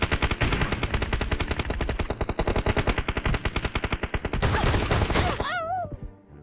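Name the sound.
new shotgun firing in the video game PUBG Mobile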